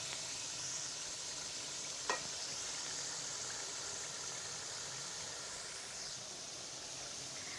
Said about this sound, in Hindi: इसको अच्छे से भूनेंगे, ताकि जो है मसाला वो अच्छे से चिकन में जज़्ब हो जाए।